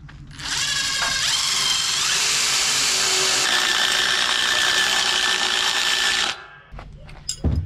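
A power drill bores holes into a trailer, running as one loud, steady whine for about six seconds before stopping, followed by a few short clicks and knocks.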